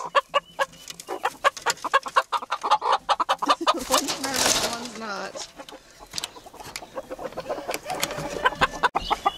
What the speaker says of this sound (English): I recently added these chickens.